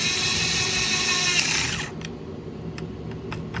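Power tool whirring steadily while bolts are run down on a Husqvarna 562 XP chainsaw recoil starter, then cutting off into a quieter stretch with a few faint clicks.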